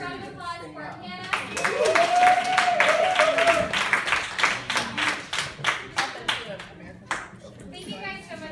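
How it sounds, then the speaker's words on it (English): A round of clapping and applause for Hannah in a classroom after a sample lesson, swelling then breaking into scattered claps, with a young voice speaking briefly at the start and end. "Another round of applause for Hannah."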